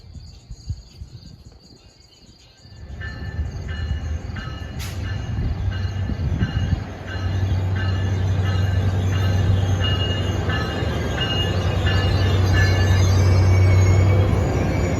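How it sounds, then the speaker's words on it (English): Commuter train bound for Suffern with the Armed Forces Blue Unit 4502 rolling past nearby, a steady loud rumble and rail noise building after a quiet start, with faint insect chirps in the background; its K5 LLA horn is not clearly distinct. "Train 1177 to Suffern with the Armed Forces Blue Unit 4502, complete with a nice loud K5 LLA horn."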